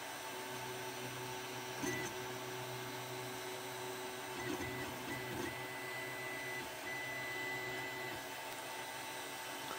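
3D printer printing ordinary black PLA while running slightly wrong, a faint steady motor whir with soft stepping squeaks and small rises in pitch, nearby, with no talking.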